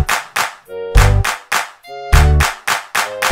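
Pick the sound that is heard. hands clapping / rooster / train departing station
hands clapping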